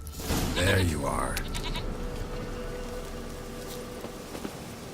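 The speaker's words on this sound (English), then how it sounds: "Here, goat." A goat bleats in The Witcher 3 video game, its call rising out of a steady game ambience, with a fainter bleat following.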